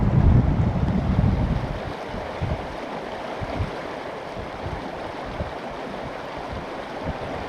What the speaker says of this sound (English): You just hear the water, that's it.